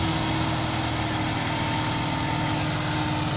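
A Massey Ferguson MF 265 tractor idles steadily close by while hitched to a brick-loaded trolley, its engine making an even, continuous rumble that does not change. No one speaks.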